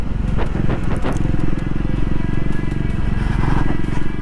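A Triumph 400X motorcycle engine runs steadily while riding at around 3,000 RPM. It gives a continuous, loud low thrum with a fine pulsing rhythm and passing wind noise. There is no talking over it.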